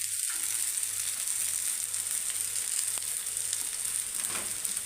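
Okra curry sizzles steadily in a pan as coriander powder and meat masala are stirred in, a constant close frying hiss with an occasional soft stir and a faint low hum.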